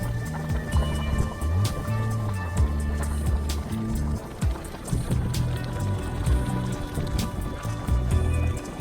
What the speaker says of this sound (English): we find bubbling mud pools